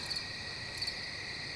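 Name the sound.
crickets chirping at night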